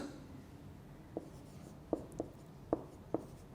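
Chalk or marker taps and scratches on a board as a word is written during a lecture: five short, separate strokes against quiet room tone, with no talk.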